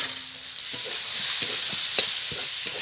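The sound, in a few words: fried potatoes stirred into frying masala for ghugni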